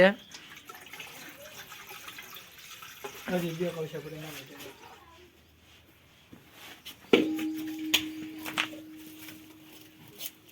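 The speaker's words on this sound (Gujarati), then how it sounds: "મહેશભાઈ પાણી નામી રહ્યા" Water pours and splashes into a pot, with a steady running stream under people talking nearby.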